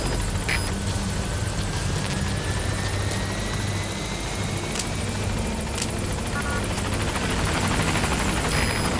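The Pequod helicopter arriving at a landing zone in Metal Gear Solid V, a steady loud rotor whine and engine drone with a gliding tone that rises as it approaches, continuous and close.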